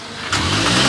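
A Volkswagen Golf R fitted with a Milltek exhaust, held to a 3,000 rpm limiter, revs up close by, its deep engine note rising sharply into a loud, sustained drone.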